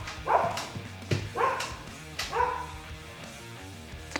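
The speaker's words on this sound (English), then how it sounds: "And there goes the dogs." Several dogs bark in a woodworking shop setting, three loud rounds of barking and yipping spaced about a second apart, close by and fairly prominent, with a low hum underneath.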